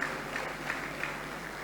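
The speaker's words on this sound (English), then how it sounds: "Can we sustain the applause" Applause at a government ceremony in Edo State: a steady, even wash of clapping from a crowd, moderately loud and sustained without pause, no voices standing out.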